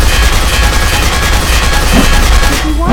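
Dense, loud bursts of automatic gunfire from a virtual soldier in the video game Consortium rattle almost continuously, with rapid shots overlapping into a sustained barrage.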